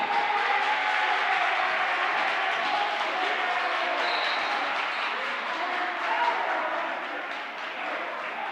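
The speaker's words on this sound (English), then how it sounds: "how much does this crowd noise play in?" Crowd at a high school basketball game keeps up a steady, dense wash of applause and cheering, loud and continuous throughout, with some speech-like murmur mixed in.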